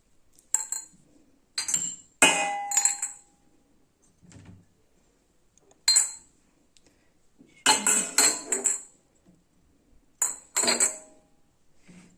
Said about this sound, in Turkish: bez koyuyorum ve bardakları yerleştiriyorum